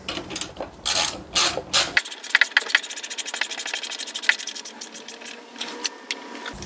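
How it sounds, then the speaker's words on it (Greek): Bolt being screwed onto a Kawasaki ZX130 motorcycle shock absorber during a chassis rebuild, with a run of close, rapid scraping and ratcheting clicks after a few louder rubbing strokes. "Και βιδώνω."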